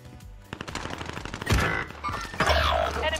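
Rapid bursts of automatic gunfire in the Warzone video game, rounds shot through buildings, loud and close with dense repeated cracks and heavier thumping impacts across the stretch.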